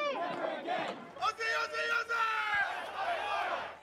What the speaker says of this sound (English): As the chants died down and the crowds dispersed